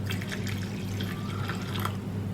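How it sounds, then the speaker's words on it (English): Water poured from close by into a well of wheat flour for dough, a soft continuous trickling pour of moderate loudness with no voices. "pour in some water."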